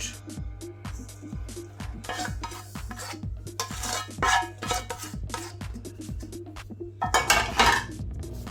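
Chicken ball ingredients with seasoning salt, toasted peanuts and cornstarch are stirred in a bowl, with repeated rhythmic scraping and clinking of a utensil against the dish, growing busier and louder near the end.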